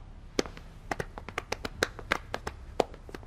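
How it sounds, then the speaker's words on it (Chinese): A small group claps unevenly in a quiet room, with sparse, sharp individual hand claps scattered over about three seconds rather than a full ovation. "大家鼓掌"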